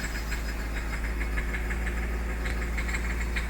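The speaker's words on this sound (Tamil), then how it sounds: "வண்டியை ஆக்சிலேட் பண்ணி ஒரு 2000 மேலே விடுறேன்" A Hyundai Xcent engine with a faulty injector is revved and held above 2000 rpm, giving a steady, droning hum with a slight rattle, close and continuous, with no talk.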